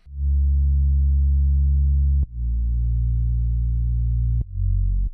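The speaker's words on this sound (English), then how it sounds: "It's just a simple saw wave, which I took a little bit of the mid-lows out of it." A synth sub bass from a plain saw wave with some mid-lows cut, held as long steady loud notes, two sustained tones broken by brief clicks as the next note starts, nothing else present.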